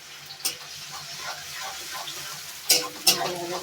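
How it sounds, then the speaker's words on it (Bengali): Garlic frying in a pan on a home stove, with a soft steady sizzle broken by a few sharp scraping stirs and clatters, mostly near the end, and no voices. "রসুনটা ভালো করে ভাজা করছি"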